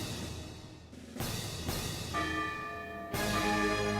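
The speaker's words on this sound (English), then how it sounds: "Bells pealed throughout the town as Cinderella was welcomed back to the castle." Church bells ring out in a celebratory peal, bright and sustained tones layering over one another, growing fuller with a fresh strike near the end; no voices present.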